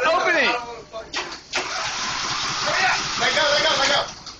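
Small lawnmower engine cranking and catching after a jump start from a Dodge Durango, a rough mid-pitched motor sputtering and revving up close, with people talking over it.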